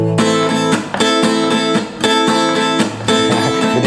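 Reggae strums on a guitar left unmuted by the fretting hand, so each chord rings and sustains; about four loud, full strums in an even rhythm, heard alone.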